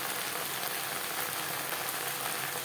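Okra fries in a pan with a spice tempering, giving a dense, even crackling sizzle that stays constant and fairly quiet with no voices.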